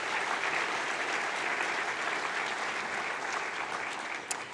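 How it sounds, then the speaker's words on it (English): Dense, steady applause from a sizeable audience fills the space, holding at an even level before tapering slightly near the end. "Let's give them all a big round of applause."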